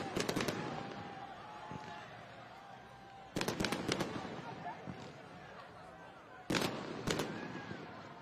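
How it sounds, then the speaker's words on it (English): Fireworks go off at a high school football game between El Camino Real and Chatsworth, three clusters of sharp cracking bangs spaced a few seconds apart, loud and echoing over a background of crowd chatter. "And now a firework display, and that's always nice."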